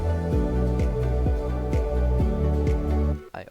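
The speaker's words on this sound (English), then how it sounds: "I added a bass and a kick and a snap." A music track plays a deep bass line with a steady kick drum and crisp snaps on a regular beat, loud and close, cutting off abruptly at the end.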